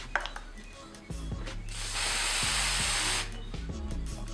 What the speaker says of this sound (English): this Atmosphere Aerosol. It's basically fog in a can.